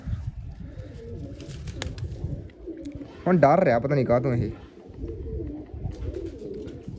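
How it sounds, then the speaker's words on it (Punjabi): A white-eyed pigeon coos in a loud, close burst of warbling calls midway, with other pigeon murmurs and someone talking around it. "ਕਬੂਤਰ ਹੀ ਬਣ ਗਿਆ ਗੁੜਕਦਾ ਹੀ ਬਹੁਤ ਆ"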